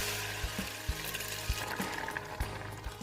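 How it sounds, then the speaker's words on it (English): Pepper blend drops into heated olive oil in a cooking pot, a low steady sizzle and hiss with a few soft thumps and clinks of a spoon against the pot, fairly faint and without talking. "When the oil heats, I will add in our pepper blend."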